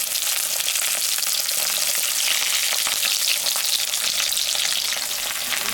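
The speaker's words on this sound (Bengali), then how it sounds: "পেঁয়াজটা হালকা ভাজে নিয়ে বেগুনটা দিয়ে দিচ্ছি।" Onion and eggplant fry in a pan with a steady, dense sizzle that runs unbroken throughout, close and fairly loud with light stirring scrapes and no voices.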